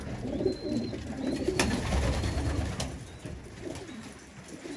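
Pigeons cooing nearby in a rooftop loft, soft low throaty coos rolling on and off, with a few light clicks and a faint chirp in the background and no talking.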